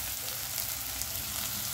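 Chopped onions, half a cup, frying in mustard oil for a desi magur fish curry, giving a steady dense sizzle that holds evenly close up throughout, with no voices.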